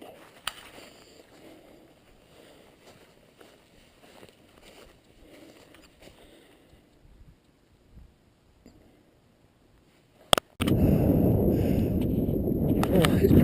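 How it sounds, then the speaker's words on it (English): Quiet outdoor ambience on a mountain hike in the Lofoten Islands with some faint voices, then a sudden loud, rough wind roar blasting across the microphone for the last few seconds. "It's quite windy, so I'm sorry."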